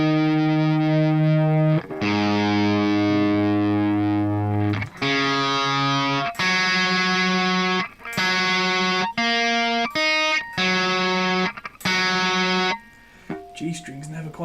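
Distorted Les Paul electric guitar plays loud sustained chords and single notes in separate bursts with short gaps between them, alone with no voices, ending on fainter, sparser notes.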